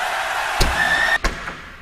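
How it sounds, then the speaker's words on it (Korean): A tractor cab door slams shut with a hard, sharp thud, followed by a second knock a moment later, over a steady mechanical hum, with no talking. "문 소리가 좀 딱딱한데"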